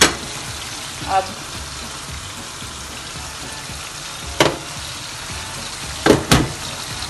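Potatoes and chickpeas fry and are stirred in a pan, giving a steady low sizzle with a few sharp clatters of the spoon near the start, middle and end, while a voice briefly speaks.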